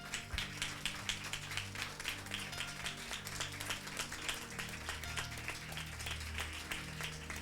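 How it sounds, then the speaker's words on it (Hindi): A church congregation claps its hands in a steady, rhythmic beat, continuous and moderately loud, mixed with worship music and a faint voice. "Come on, clap your hands and give him."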